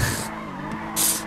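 Car tires squeal and skid loudly while a car spins donuts in an impound lot, with a sharp screech at the start, a rough grinding middle, and another bright squeal near the end.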